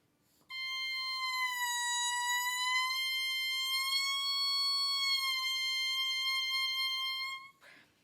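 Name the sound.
reed instrument warm-up, embouchure rolled out and in for pitch change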